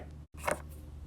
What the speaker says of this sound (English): the pencil tap, and it sounds like this